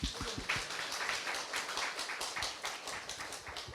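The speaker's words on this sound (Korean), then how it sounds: "박수 한번 쳐줍시다" A church congregation claps together during a Sunday worship sermon, a dense, uneven patter of many hands with a few sharper slaps rising above it, steady for the few seconds heard.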